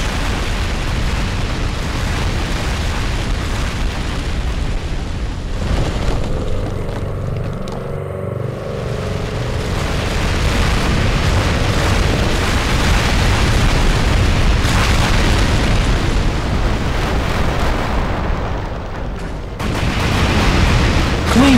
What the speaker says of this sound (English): El Wither shoots a nuke directly at MVP. Code Red also nukes him.